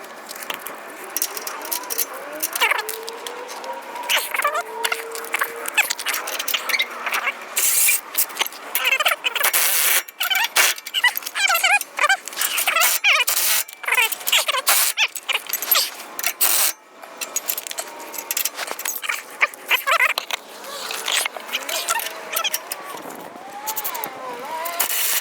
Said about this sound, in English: Now we're going to tighten up these sway bar links